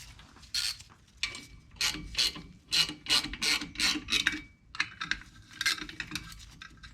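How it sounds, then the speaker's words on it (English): Bolts, 8mm by 1.25 pitch, are cranked into the rear brake drum of a 2009 Nissan Versa to push it off the hub, giving close rhythmic bursts of ratcheting and metallic rasping with short pauses between strokes. "So we'll use these to kind of push the drum off of the hub."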